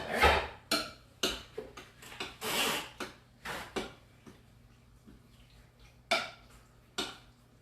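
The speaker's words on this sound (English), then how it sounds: "So now, I'm gonna just mix that all together." A spoon knocks against a bowl while gochujang cocktail sauce is mixed, giving a string of sharp, irregular clinks and scrapes with short pauses, close and fairly clear.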